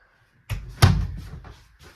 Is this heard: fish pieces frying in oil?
no